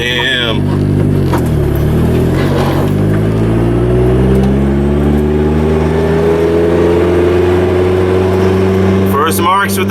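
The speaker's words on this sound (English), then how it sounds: "That's why I just did a nasty burnout." A car with a freshly installed engine doing a burnout: a loud, sustained engine roar climbs steadily in pitch across the whole stretch, with tire and exhaust noise throughout and brief voice sounds mixed in.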